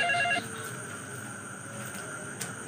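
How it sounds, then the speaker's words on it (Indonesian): A telephone rings with an incoming call: a short burst of electronic ring tones right at the start, then fading into a quiet room background. "Siapa lagi nih yang nelfon ya?"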